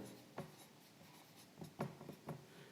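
Chalk or marker strokes on a board during a trigonometry class, several short faint scratches and taps at an uneven pace in a quiet room, with no talk over them.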